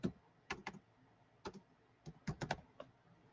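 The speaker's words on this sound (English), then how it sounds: "I'm just typing crazy" Quiet clicking of computer keyboard keys, typed in short irregular bursts of single and paired strokes with brief pauses between them, close and alone without any talking.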